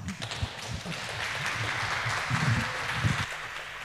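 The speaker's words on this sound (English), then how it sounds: "a big hand of applause on this cold night" Audience applause at a hacker camp music talk on a cold night, a steady wash of many hands clapping at moderate distance, even and sustained throughout with no voices on top.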